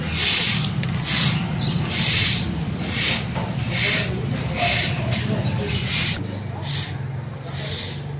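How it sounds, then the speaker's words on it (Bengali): Water poured over a temple floor and scrubbed with a broom, heard as rhythmic, swishing hiss strokes repeating about once a second over a low, continuous background rumble. "এইগুলো সমস্ত জল ঢেলে ঝাঁটা দিয়ে এখন ধুয়ে দেবো।"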